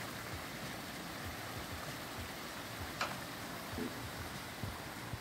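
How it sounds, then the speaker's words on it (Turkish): Water of a Yedigöller waterfall flows steadily through forest, a constant broadband rush close by with no voices and a few faint ticks and knocks over it. "Şelalenin melodik sesi rehberliğinde,"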